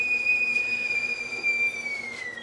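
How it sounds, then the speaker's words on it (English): A kettle whistles as its water boils, giving a single sustained, piercing tone that holds steady and then dips slightly in pitch near the end, with no voices. "If you can hear that whistle, the water's ready."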